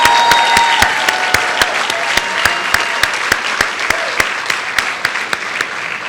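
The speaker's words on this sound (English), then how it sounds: "One more round of applause for Jane Miller," Audience applause at a school arts awards ceremony for a community arts advocate: a loud, sustained crowd clapping wash with sharper individual claps standing out near the microphone, and faint voices underneath.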